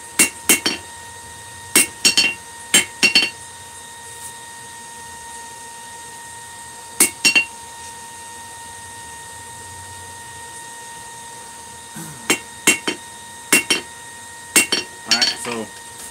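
Hot steel stock is hammered on an anvil to straighten it, sounding as sharp ringing strikes in clusters of two or three separated by pauses, clear against a quiet steady background hum.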